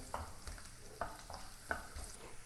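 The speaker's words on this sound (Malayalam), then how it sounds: "അതിനെ ഒന്ന് മൂപ്പിച്ച് മൂപ്പാവുന്ന വരെ ഇളക്കി കൊടുത്തുകൊണ്ടിരിക്കുക" Bird's eye chillies frying in a pan for an onion and carrot pickle, stirred with a handful of quick, faint scraping strokes over a quiet sizzle.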